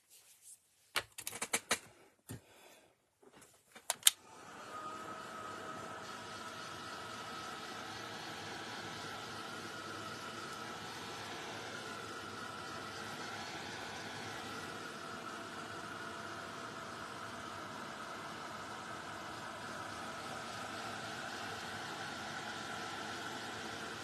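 A heat gun warms an art journal page made with paper scraps, starting with several sharp clicks and knocks before its steady, loud blowing hiss and motor hum run on without a break.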